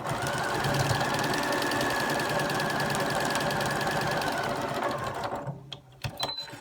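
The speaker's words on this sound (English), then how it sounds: "And carefully start sewing down one side." A sewing machine stitches a quilt block in one continuous rapid, mechanical rattle for about five seconds, then stops, leaving only a few small handling sounds.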